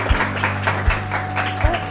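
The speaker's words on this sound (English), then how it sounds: "This is when you clap." Guests at a wedding ceremony clapping after the couple is pronounced married, steady scattered applause with a few sharp low thumps punctuating it over roughly two seconds.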